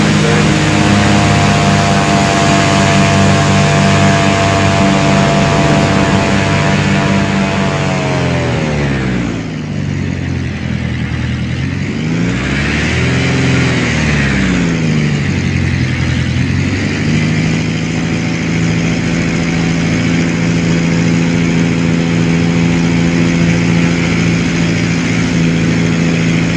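A Cirrus SR22 aircraft engine in the X-Plane flight simulator drones loudly and continuously at full throttle, its pitch dipping and swelling midway before holding a steady high hum.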